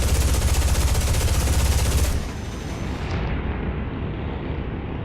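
Rapid, rumbling machine gun fire from an F-80 Shooting Star jet in War Thunder rattles loudly for about two seconds, then stops and leaves a steady, roaring engine drone.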